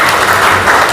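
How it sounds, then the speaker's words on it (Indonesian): A seated audience at a Tamansiswa gathering in North Sumatra gives loud, dense applause, heard for a brief moment with no talking. "Kita berikan tepuk tangan ke beliau."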